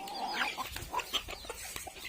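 Chickens cluck on a rural hillside farm: several birds make short, close clucks and calls over a quiet outdoor background, with no talking.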